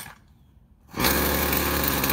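Stihl FS56RC string trimmer on choke: quiet for about a second, then the small two-stroke engine bursts into a loud, steady buzzing run that carries to the end.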